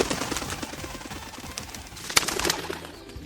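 Young pigeons cooing softly at close range, with low murmuring coos, a brief sharp rustle or flutter and scattered chirpy sounds over a busy background, with no speech.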